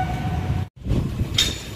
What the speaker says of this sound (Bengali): ওই হচ্ছে ট্রেন আসছে